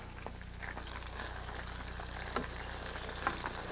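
Sweet and sour shrimp are stirred around in a hot pan, a constant bubbling sizzle broken by a couple of light utensil clicks against the pan.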